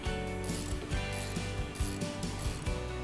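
Ratcheting and metallic clicks from bolts being removed on a Cobra Fortis lawn mower, a steady rhythmic mechanical working sound, close and moderately loud.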